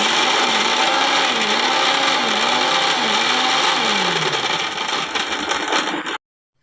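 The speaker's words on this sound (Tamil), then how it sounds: "இஞ்சி எடுத்து வச்சுருந்த பூண்டையும் சேர்த்து அரைச்சி எடுத்துக்கலாம்." A mixer grinder grinds ginger and garlic in a steady loud whirring drone that runs continuously before cutting off abruptly near the end.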